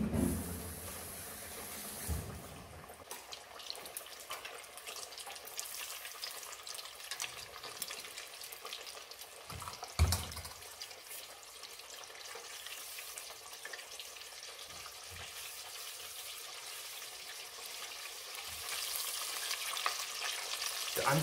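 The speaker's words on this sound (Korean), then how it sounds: "160도 이상으로 튀겨주셔야지 이제 옷이 바로 벗겨지지 않고요" Battered whole chicken pieces for Chinese lemon chicken deep-fry in oil above 160 degrees with a dense, steady sizzle and crackle, broken by a louder splash and bubbling surge around the middle.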